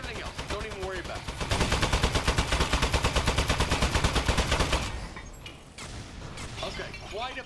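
Rapid automatic weapon fire from a gun in the video game Aperture Desk Job, a dense rhythmic stream of close, loud shots lasting several seconds before cutting off, with game sounds and a voice continuing after.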